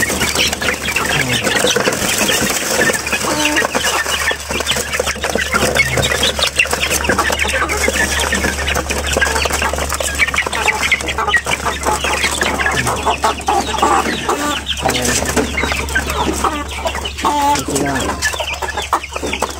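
Chickens, including white and mixed birds with several roosters, cluck continuously and flap their wings inside a backyard coop, a dense and loud close-up chorus with no pause.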